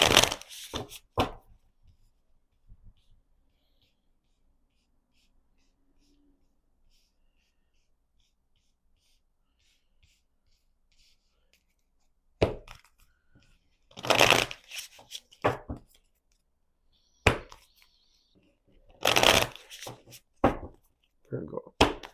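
Tarot cards being shuffled by hand, coming as several short, brisk riffling bursts in the second half after a quiet stretch, close and fairly loud with a few soft handling sounds at the start.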